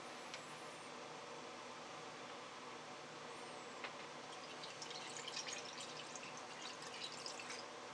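Brine pours into jars for pickling northern pike, a faint, steady liquid trickle and splash with soft drips, heard close and alone.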